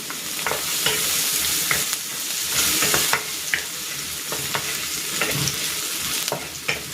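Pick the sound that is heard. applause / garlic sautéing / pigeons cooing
garlic sautéing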